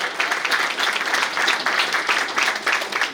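Audience at an embassy fraternity night gala clapping for an honoree's husband, brisk continuous applause filling the whole moment at a steady level.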